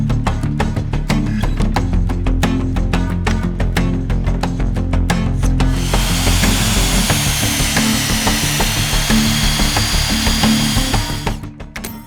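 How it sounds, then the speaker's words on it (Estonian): A power drill bores holes through wooden beams for a homemade power rack, a loud whirring drive with rhythmic bursts of cutting that grows noisier and rougher partway through before winding down at the end. "ja siis saan augud puurida"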